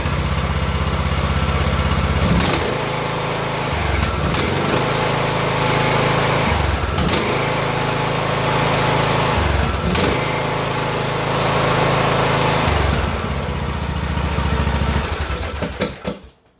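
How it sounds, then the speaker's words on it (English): A Briggs and Stratton lawn mower engine, just repaired after a smoking head gasket fault, starting and running loud and close, its putter surging and dipping several times in an uneven rhythm before cutting off at the end. "So let's fire it up and see how she's going to act."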